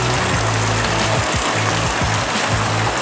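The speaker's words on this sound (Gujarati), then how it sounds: "તો મિત્રો આવો વરસાદ આવે છે" Heavy rain pours down while water flows through flooded ground, making a loud, steady rushing hiss with a faint low rumble underneath.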